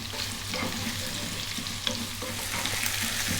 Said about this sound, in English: we're going to add the pumpkin. Above medium heat, 4 minutes,